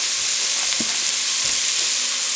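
Sliced onion sautéing in oil in a pan, a loud continuous close sizzle with a couple of soft stirring knocks.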